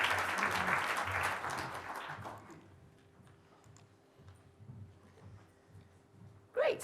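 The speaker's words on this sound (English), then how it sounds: "If everyone could join me in giving these two a big round of applause." Conference audience applause that is loud at first, then fades over a few seconds into a quieter room with scattered light sounds.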